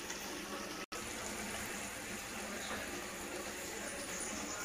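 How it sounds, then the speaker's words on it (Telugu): A small glass of water poured into a pot of cooking amaranth greens for thotakura pullagura, a steady splashing gush that runs evenly and fairly loud through the whole stretch, broken by one brief dropout near the start. "చిన్న గ్లాస్తో ఒక గ్లాసు వాటర్ వేసుకోవాలండి"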